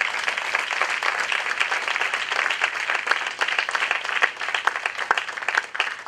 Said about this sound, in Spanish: ¿Alguno aplaude al Rey de Gloria en este lugar?